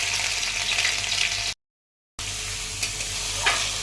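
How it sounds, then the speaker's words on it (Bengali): Garlic, chopped ginger and green chili hit hot oil in a wok and fry with a steady close hiss and sizzle, broken by a brief gap, with light stirring scrapes afterward. "কড়াইয়ের তেলটা গরম হয়ে গেছে। এরপরে সর্বপ্রথম আমি এতে দেব রসুন আর আদা কুচি, একটু কাঁচা লঙ্কা দেব"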